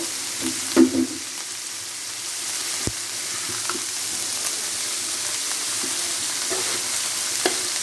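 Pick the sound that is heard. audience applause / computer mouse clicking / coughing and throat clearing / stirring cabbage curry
stirring cabbage curry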